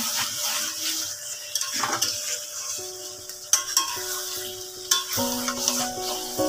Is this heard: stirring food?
yes